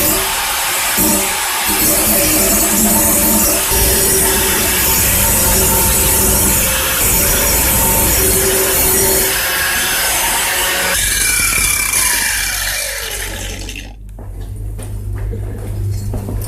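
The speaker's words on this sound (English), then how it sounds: "Having that angle grinder's like getting a new blade every time you sharpen one" An angle grinder grinds a lawnmower blade with a loud, harsh, continuous metallic scraping close by. The pitch shifts near the end as the tool spins down.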